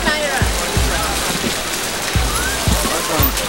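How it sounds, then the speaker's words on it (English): Rain falls steadily in a busy Nigerian street, a dense hiss of drops with heavy low thumps and splashes at irregular intervals, loud and close. "It's raining."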